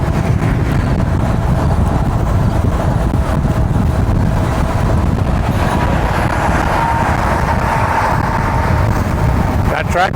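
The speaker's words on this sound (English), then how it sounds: "Tractor trailers on the road already" Tractor trailers and other traffic roll past on a road near Perryville in early morning light, a loud continuous rumble buffeted by heavy wind noise on the microphone, with swells as vehicles go by close at hand.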